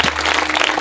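An audience at a religious festival gathering claps in a brief, dense burst of applause that stays steady and loud throughout.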